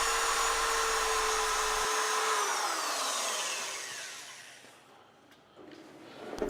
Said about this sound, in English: I used the wire wheel on all the parts inside in order to remove the rust.